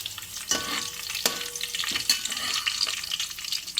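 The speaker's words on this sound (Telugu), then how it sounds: "కొంచెం జీలకర్ర, ఆనియన్స్ వేసుకుందామండి" Cumin seeds and onions dropped into hot frying oil for semiya upma, a soft steady sizzle with a few sharp crackles and stirring scrapes, close up and fairly quiet, no talking.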